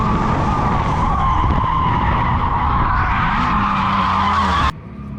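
A stock Subaru BRZ spins out on a race track, its tires skidding loudly and continuously for several seconds under a steady engine drone, ending abruptly as the sound cuts off.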